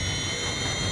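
Steady jet engine roar from an aircraft during a plane crash sequence in a console video game, a loud continuous whine with a low rumble underneath, sounding alone without any talk.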